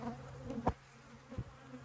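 Honey bees buzz faintly, with a couple of short passes as single bees zip close by.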